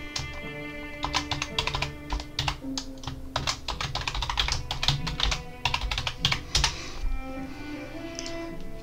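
Fingers tap out a password on a computer keyboard, a close series of quick, irregular clicks and clacks in short bursts, with brief pauses between keystrokes.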